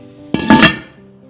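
A short clatter of a dish of keto mac-n-cheese being set into an oven, with a couple of close, ringing clinks of cookware on the rack that fade quickly.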